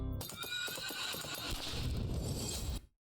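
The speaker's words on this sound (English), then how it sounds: "Spindle Horse." A horse neighs loudly and hooves clip-clop in a steady trot, close and full throughout, as the logo sting for the Spindle Horse animation studio, fading out abruptly near the end.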